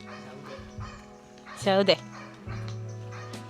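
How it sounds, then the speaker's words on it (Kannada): A dog gives a short burst of two or three yelping barks in the middle, between stretches of people talking nearby. "ಅಲ್ಲಿ ಡಾಗ್ ಉಂಟು, ಚಂದ ಉಂಟು ಮಾತ್ರ ಅದು."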